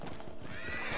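A horse in Ghost of Tsushima gives a brief whinny over close hoof clip-clops, a short rising neigh ringing above the rhythmic steps.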